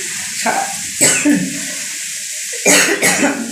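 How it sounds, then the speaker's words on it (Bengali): Three bursts of harsh coughing, close and loud, separated by short pauses over a quiet background hiss. "আর কি কাশি হচ্ছে, ঠান্ডা লেগে গেছে"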